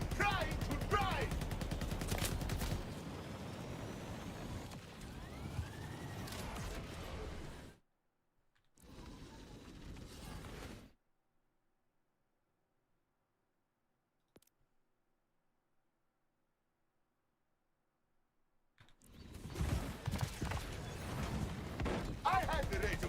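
Bursts of gunfire from Borderlands 4 crackle densely under a talking voice for several seconds, then drop away into near silence before loud game noise returns.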